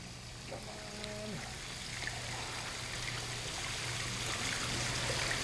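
Water trickles over the rocks of a newly switched-on koi pond waterfall, a soft continuous rush that builds slightly, with a low steady hum beneath and no talking.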